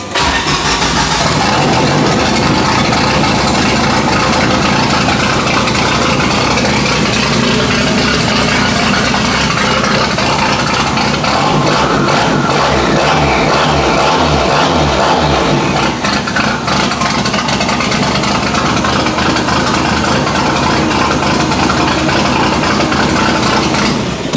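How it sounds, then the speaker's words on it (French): A rebuilt, forged 350 hp racing engine in a Citroën C15 van starts and runs, a loud continuous close roar with rising and falling revs. "le moteur démarre, vous allez le voir"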